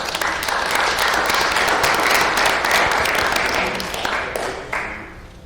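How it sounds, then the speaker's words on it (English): A room full of people at a school district committee meeting breaks into a round of applause, dense steady clapping that stays loud before thinning slightly near the end, with no voices over it. "So I'll give a round of applause to you for that."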